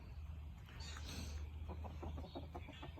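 Chickens cluck in a series of short, repeated calls close by on a farm in the morning, with a steady low hum running underneath.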